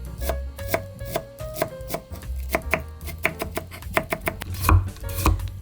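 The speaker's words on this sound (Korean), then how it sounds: "양배추를 가늘게 채 썰어 주세요. 그런 다음에 이렇게 두고 곱게 다지세요." A knife finely chops shredded cabbage on a cutting board, with rapid irregular bursts of sharp, loud, close taps and thuds.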